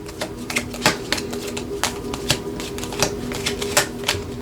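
Tarot cards being shuffled by hand, a rapid close series of crisp flicks and taps with a few sharper snaps, steady throughout and without talk.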